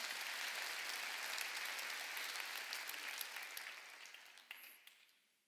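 A church congregation applauds during a Sunday worship service. The dense, even clapping fills the room and then gradually fades away near the end.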